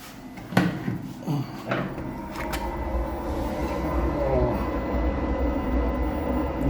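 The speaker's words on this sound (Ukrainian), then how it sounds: "горелочка працює" An Altep Duo Uni 40 kW pellet boiler burner runs on its first start-up with a low, steady roaring hum that builds slightly, opened by a few sharp metallic clunks and knocks near the unit.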